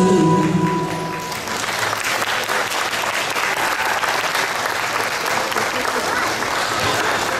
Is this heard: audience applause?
yes